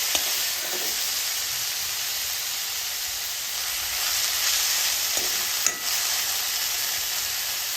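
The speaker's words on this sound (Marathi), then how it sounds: "हे आपण एकदम व्यवस्थित शिमला मिरची परतून घ्यायची." Chopped onion and capsicum sauté in a hot pan, a continuous close sizzle and hiss with faint stirring scrapes throughout.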